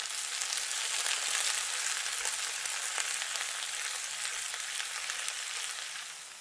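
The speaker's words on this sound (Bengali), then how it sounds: "আমার আসলে খুবই ভালো লেগেছে পেঁয়াজিটা ভাজতে" Onion fritters (peyaji) frying in oil in a miniature kitchen, a steady close sizzle with crackling bursts that holds level throughout and eases slightly at the end, with no talking.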